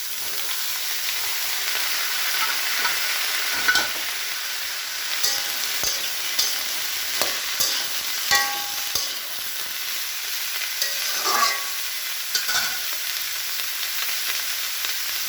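Eggplant, green tomato and mixed vegetables stir-fry in a pan with a continuous bright sizzle and hiss, broken by frequent scraping knocks of a spatula stirring, close and fairly loud throughout.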